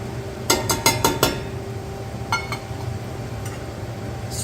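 Seasoned salt and granulated garlic stirred into one-pot hangover chili, a spoon knocking and clinking against the pot in a quick burst of five or six strikes, then a softer pair of scrapes and occasional faint taps.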